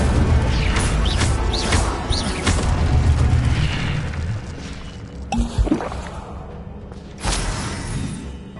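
Fire spell cast in the video game Hogwarts Legacy: booming magical bursts and crashes, loud and close, with a few sharp impacts layered over dense game effects and no speech.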